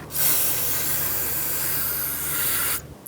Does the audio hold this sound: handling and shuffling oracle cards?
no